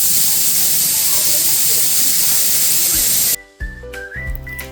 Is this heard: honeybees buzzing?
no